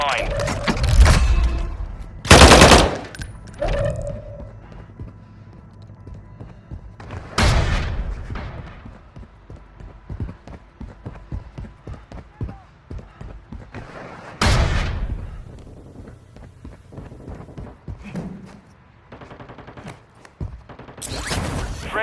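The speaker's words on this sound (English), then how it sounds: "Friendly airstrike in the AO." Warzone Mobile battle royale in Verdansk: several heavy airstrike booms spread across the stretch, with bursts of rapid gunfire and mechanical clatter between them, loud and punchy over game ambience.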